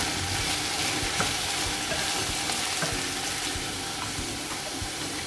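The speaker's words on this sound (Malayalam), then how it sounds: "1 ടീസ്പൂൺ ഇഞ്ചി വെളുത്തുള്ളി ചതച്ചത്, ഉപ്പ് ആവശ്യത്തിന്, നന്നായിട്ടൊന്ന് വഴറ്റിയെടുക്കാം." Crushed ginger and garlic with salt being sautéed in a pan, a loud, dense, continuous sizzle close up with light scraping from stirring and no talking.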